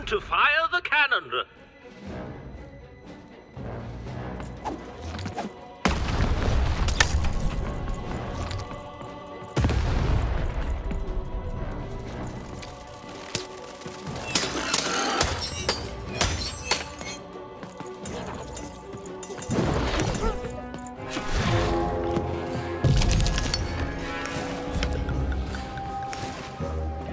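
Cannon blasts boom out in the video game Lost in Random, several heavy thuds with crashing, shattering debris spread over the stretch, mixed with game music and character voices talking between shots.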